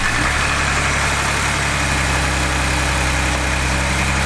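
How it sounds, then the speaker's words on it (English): Ford Bronco engine idling steadily after an oil change, a loud, even, continuous rumble with a constant low drone heard up close and no talking. "after we ran the motor for a couple of minutes, we're gonna check the oil pan again"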